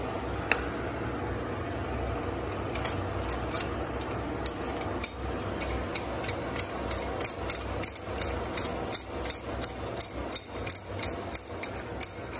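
A wall-hung Swiss Madison sink fitting with a plastic washer is tightened by hand, giving close, irregular ratcheting clicks that grow more frequent over a steady low background hum.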